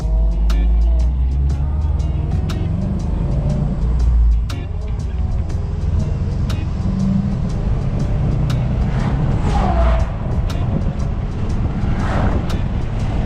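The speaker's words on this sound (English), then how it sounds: "Wait for this camper van to pass." A camper van passes a car on a country road, its steady engine and tyre rumble filling the scene in a continuous low drone with wind buffeting, no voices.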